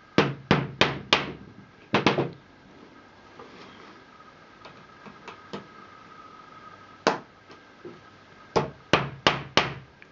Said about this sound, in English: Continue hammer everything until you have reduced the gauge.